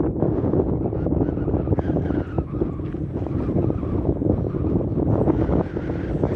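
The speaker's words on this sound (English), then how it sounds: "It's kind of windy, so I apologize." Strong wind buffets the microphone at a cemetery at the foot of the Wind River Mountains, a loud, continuous low roar with gusty swells running throughout, no voices heard.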